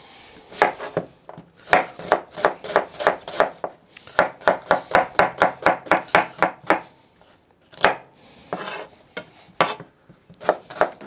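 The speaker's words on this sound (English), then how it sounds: "So I will slice 3 onions and brown them in butter in a cast iron pan." A knife slices through onions on a cutting board in fast, even runs of crisp chops, loud and close, broken by short pauses between bursts, with no voices.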